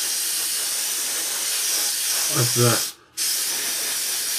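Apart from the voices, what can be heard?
spraying pre-thinned paint inside a model aircraft fuselage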